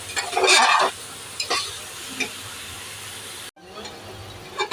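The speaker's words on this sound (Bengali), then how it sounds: "আবার ভালো করে একটু কষিয়ে নেব" Kacchi biryani ingredients with chili powder stir-fried in a pan, a loud burst of sizzling and scraping at first, then softer intermittent stirring scrapes over a low hiss, a brief gap, and quiet sizzling resumes.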